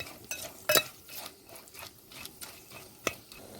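Green chilli and onion pieces stir-fry in a pan while being browned for chicken biryani. A soft, faint sizzle runs under two sharp utensil clacks against the pan.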